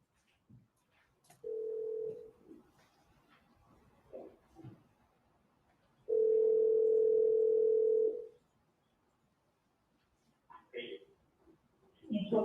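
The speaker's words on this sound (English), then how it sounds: "It's a call from Katherine Magbanua to Charles Adelson at 10:42 a.m" A steady telephone dial tone from a recorded call made during a murder-for-hire trial sounds twice, the second time longer, with brief beeps and soft courtroom voices in between.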